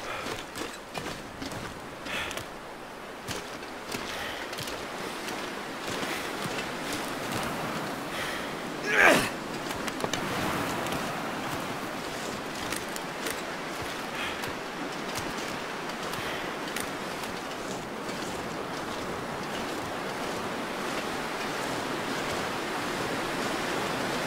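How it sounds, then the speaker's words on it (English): Wind howls steadily in The Long Dark, a broad hissing roar that holds for the whole stretch with small gusty swells and one sharp burst partway through. "I'm heading into the wind"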